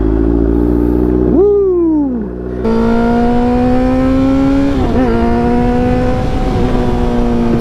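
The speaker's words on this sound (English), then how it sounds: "Let's get that cold start" Motorcycle engine cold-starting, a bike marking 100 years: a starter whine sweeps up then falls, and the engine catches into a loud, steady close idle with a brief stumble partway through.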